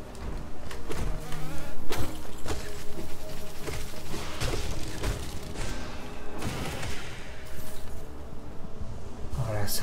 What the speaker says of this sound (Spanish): aquí debe de haber de las abejas grandes